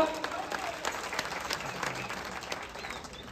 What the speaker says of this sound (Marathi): जरा टाळ्या होत होत्या त्या पंचासाठी सुद्धा